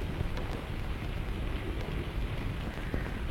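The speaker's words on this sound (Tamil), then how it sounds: "மழை விட்டுரும் போல் இருக்க." Steady rain falls in a film scene, a dense continuous hiss with occasional heavier drops, even in level and without speech.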